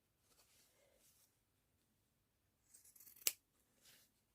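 Scissors trim excess decoupage napkin paper for decorating a cardboard box: faint, quiet snipping with one sharp, close cut near the end, and no talking.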